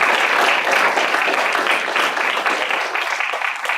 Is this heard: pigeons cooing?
no